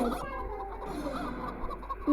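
Chickens cluck in the background over a steady low hum, with a sharper sound near the end.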